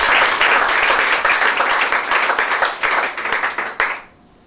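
Church congregation applauding together, a dense, loud wash of clapping hands that holds steady for about four seconds before cutting off abruptly into quiet.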